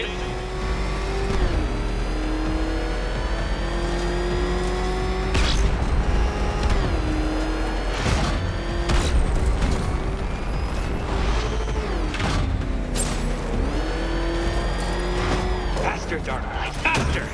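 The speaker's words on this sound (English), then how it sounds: "Can that ramshackle motor handle this?" Batmobile engine from the Batman Arkham Knight video game, revving steadily with a loud, continuous tone whose pitch dips and rises several times, mixed with other game sounds.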